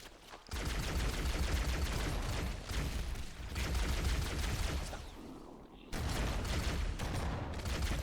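Video game gunfire including shotgun blasts, a dense, fairly quiet barrage of shots with brief gaps between volleys.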